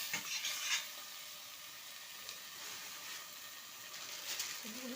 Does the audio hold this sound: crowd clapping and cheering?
no